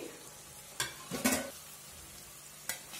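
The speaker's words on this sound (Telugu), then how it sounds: "ఇప్పుడు ఇందులోకి మనము ముందుగా వండి పెట్టుకున్న రైస్ని ఇందులోకి కలుపుకుందామండి." Cooked rice is mixed into a Maggi cube vegetable masala in a pan over a soft background sizzle, with a few distinct scraping stirs of a spoon against the pan, quiet and close.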